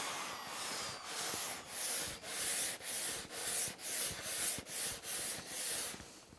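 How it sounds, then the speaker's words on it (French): Rhythmic sanding strokes across a beech and cherry wood desktop, a dozen or so even back-and-forth rasping passes, close and steady with no voices. "Un petit coup de ponçage et c'est bon."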